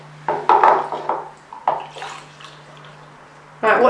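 Water poured in a few splashy bursts into a plastic toy tornado tower, with a sustained gush toward the end, close and fairly loud, a low steady hum running underneath.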